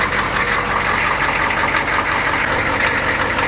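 A US Army HMMWV M998 runs its diesel engine at idle, giving a steady, close, rumbling drone with a dense mechanical clatter that holds evenly throughout.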